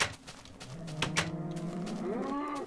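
Minecraft cows moo in a few drawn-out, game-style lowing calls, joined by brief clicks and taps, with no talking.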